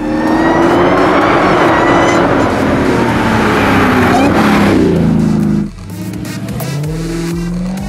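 A Dodge Challenger SRT Hellcat Redeye engine roars loudly as it accelerates and revs hard, then drops sharply in pitch and volume as it shifts down to a lower rumble.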